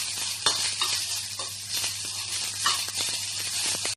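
Onions sizzle and fry in a pan with continuous crackling hiss, punctuated by scraping stirs, heard close and alone.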